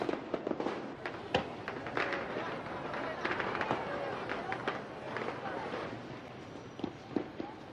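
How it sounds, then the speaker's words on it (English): Rockets and firecrackers burst all around a lake during Tet celebrations in Hanoi, a rapid scatter of sharp cracks and pops, some near and some distant, over a steady crowd murmur. "Rockets are unleashed and firecrackers set off all around the lake in a sudden burst of light and sound."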